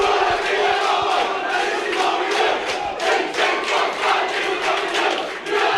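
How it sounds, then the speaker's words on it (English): A stadium crowd roars and cheers in a steady, dense wall of noise at a Dewsbury Moor Maroons versus Ince Rose Bridge rugby league promotion playoff, with swelling shouts and no clear speech. "I think the bulk of the support in this stand beneath us is cheering for Dewsbury Moor now"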